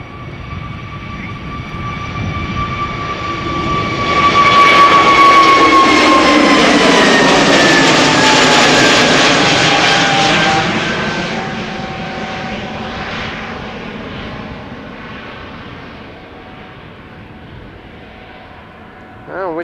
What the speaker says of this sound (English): Napoli, Naples, Italia, A320neo. Brand new airplane.